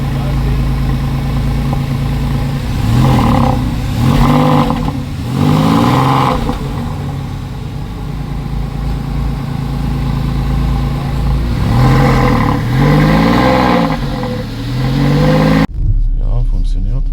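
A 2002 Porsche 996 Carrera 4 coupe engine at idle, blipped several times so the revs rise and fall in clear swells, steady and close, ending abruptly.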